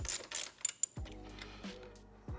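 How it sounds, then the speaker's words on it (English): Several quick mechanical clicks and a short ratcheting run as a mounting bolt is loosened on a Honda CB350 metal air box, close and fairly quiet. "Take off this mounting bolt up top here."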